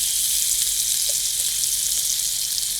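Food fries steadily in a pan for fish sambal and spicy egg, a constant loud sizzle with bright hiss and faint crackles throughout, no voices.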